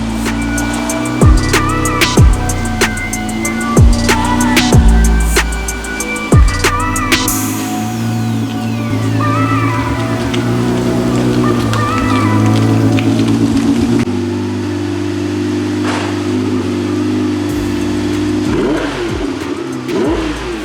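Ferrari 488 Challenge Evo race car driving forward at low speed, its engine revving loudly in repeated blips over a steady idle rumble, close by with no talk.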